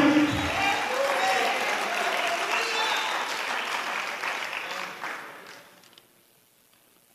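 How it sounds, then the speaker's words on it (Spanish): A church congregation applauds during a Spanish-language sermon, dense sustained clapping with a voice briefly heard over it, then the applause tapers off into near silence. "Den un aplauso al Señor Jesucristo"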